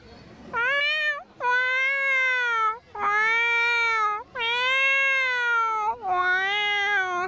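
A woman imitates a cat, giving a series of long, drawn-out, plaintive meows one after another with short pauses between them.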